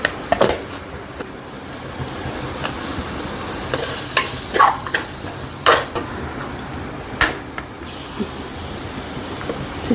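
Chicken fries in a pan with a steady close sizzle, broken by repeated scrapes and clinks as it is stirred; no one speaks.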